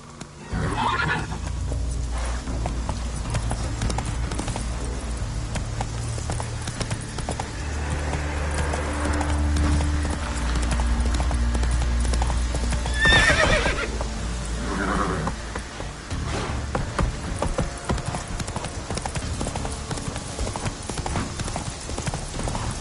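A horse's hooves clip-clop in a steady rhythm while it is ridden in the video game The Witcher 3, with a whinny and a snort partway through over a low background rumble.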